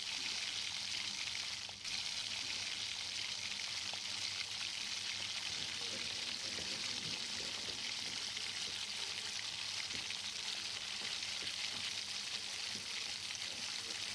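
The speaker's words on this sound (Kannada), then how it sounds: "ಕ್ಯಾಪ್ಸಿಕಮ್ ಹಾಕಿರೋ ರೀಸನ್ಗೆ ನಾನು ಡೀಪ್ ಫ್ರೈ ಮಾಡ್ತಾ ಇದ್ದೀನಿ ಇಲ್ಲಿ." Onion and capsicum deep frying in hot oil, a steady, dense sizzle that runs unbroken throughout with a faint stir or two, no voices.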